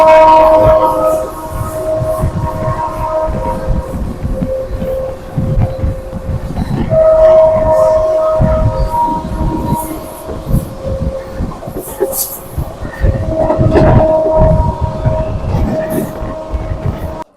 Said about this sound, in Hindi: अपनी फुल हॉर्निंग के साथ चुनार जंक्शन को स्किपिंग।